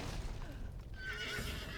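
Horse in a video game whinnying loudly over a constant game backdrop, the neigh rising and then wavering through most of the short clip.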